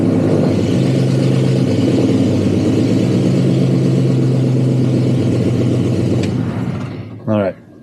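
A 1955 Chevy Napco truck engine runs with a steady, fairly loud mid-pitched idle, dropping off near the end, with someone talking over it.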